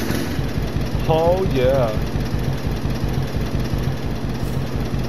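A vintage tractor engine in Farming Simulator 22 idles with a steady, low, chugging drone throughout, while a voice speaks briefly over it.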